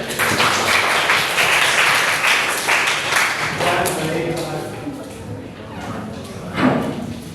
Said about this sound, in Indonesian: Silakan beri tepuk tangan untuk Mas Herja.